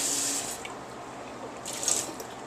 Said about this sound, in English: let's do 32 ounces of water.